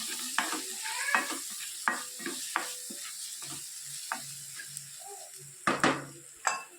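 Spices frying in a pan for palak pakoda while being stirred, with a soft sizzle beneath repeated scraping and clinks of a spoon against the pan.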